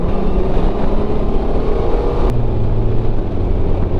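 A 2021 Honda Goldwing DCT motorcycle cruises in seventh gear at low revs, its engine a steady, loud low drone blended with heavy wind rush, with no one speaking.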